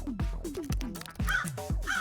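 A crow gives a series of five or six harsh caws in a steady rhythm, loud and fairly close, with nothing else around them.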